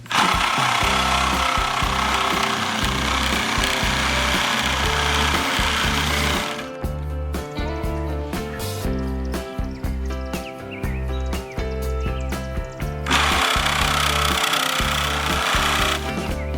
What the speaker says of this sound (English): One of my favorite tools has to be this hacksaw. It cuts through anything